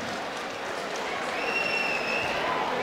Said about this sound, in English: Round of applause, ladies and gentlemen, for Costel Pasniciuc.